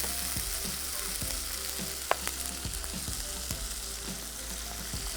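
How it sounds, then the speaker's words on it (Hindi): Ginger and garlic sizzle steadily in a pan close by, while a spoon scrapes and stirs at an even rhythm, with one sharper clink partway through and no talking. "बस थोड़ा सा अदरक और लहसुन पक जाए"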